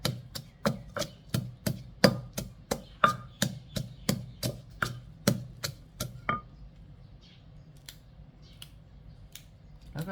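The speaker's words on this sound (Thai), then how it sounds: "แล้วก็ตำนะคะ วันนี้ใช้แต่พริกแดงจินดาเท่านั้นนะคะ" Red jinda chillies pounded with garlic in a mortar for a spicy Thai papaya-style salad with chicken feet and pork skin: a quick, regular run of loud close thuds that stops, leaving only faint scattered knocks.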